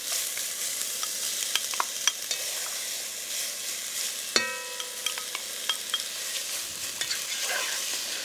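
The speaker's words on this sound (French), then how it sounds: "On va commencer par les oignons. On va ajouter les poivrons." Onions and peppers frying in a pan for a summer vegetable gratin, giving a steady soft sizzle with scattered clicks and scrapes of stirring, close and alone.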